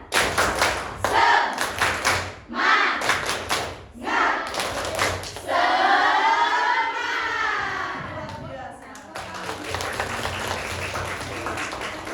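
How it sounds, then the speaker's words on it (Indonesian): A class claps a rhythmic spirit cheer in loud, close bursts of patterned claps with short gaps. A shouted chant and voices come partway through, then there are scattered claps and chatter. "Tepuk semangat."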